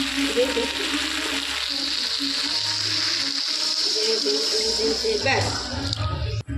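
Water poured into crab curry frying in a pan: a steady sizzle and bubbling that swells into a splashy hiss near the end, with a person talking over it.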